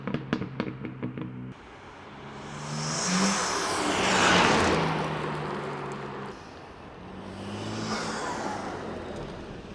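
A BMW M3 fitted with titanium front-mount intakes, recorded from inside the engine bay, revs in three rising and falling swells, loud and breathy with intake roar between quieter idling stretches.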